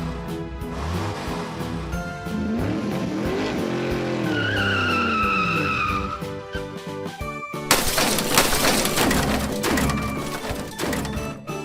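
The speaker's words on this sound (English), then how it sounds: "Racing car." Racing car engines whine and sweep through rising and falling revs, then a sudden loud burst of tire skidding and screeching takes over, close and continuous with no voices.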